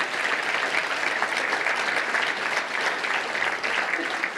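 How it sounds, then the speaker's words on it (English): Steady applause from a crowd at a touchdown club meeting in Little Rock, continuous clapping at an even level throughout with no pauses. "Let's give them a round of applause"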